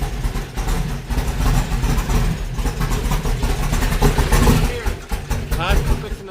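A Chevrolet Camaro engine idles up close with a loud, lumpy rumble and uneven pulses, while people talk over it.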